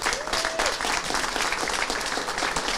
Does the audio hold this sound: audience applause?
yes